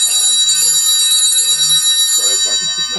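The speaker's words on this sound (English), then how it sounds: "Sorry, that's my phone's going" A mobile phone rings with a bright, bell-like repeating electronic chime, loud and close, heard during a steelhead fishing outing, with faint voices and low rumbles underneath toward the end.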